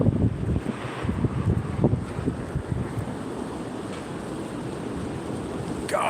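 Wind roars and buffets against a microphone outdoors, louder at first and then settling into a steady rushing hiss with no voices.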